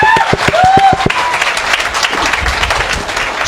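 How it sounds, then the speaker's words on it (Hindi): A crowd at an evening event breaks into applause, a burst of clapping that swells briefly and then thins into scattered claps over a few seconds. "जोरदार क्लैपिंग।"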